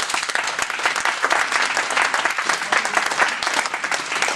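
A congregation at a night prayer vigil in Paris bursts into dense, sustained applause for the Lord. The clapping is loud and close, steady throughout, with faint voices mixed in.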